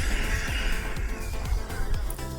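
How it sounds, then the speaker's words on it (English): Dual cooling fans on a Team Magic Beetle Baja RC car running steadily, a constant whirring hiss with faint periodic clicks, close and fairly loud, with no talking. "I also installed a dual Vitavon cooling fan setup."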